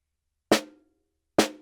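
Two sharp snare drum strokes from a left-hand drag exercise, each a crisp, close, loud crack with a short ringing tail, spaced nearly a second apart against silence.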